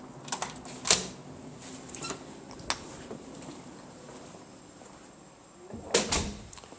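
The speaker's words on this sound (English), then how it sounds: "open the door." A hotel room door at an Ibis Budget in Manchester is unlocked and opened, giving a couple of faint clicks and a soft thud with quiet room tone in between, no talking.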